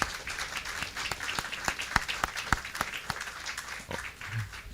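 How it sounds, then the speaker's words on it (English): A round of applause from the audience at a police station opening ceremony, many hands clapping steadily with distinct sharp claps standing out, fairly distant and moderate in level. "I'm going to actually take a moment to give her a round of applause"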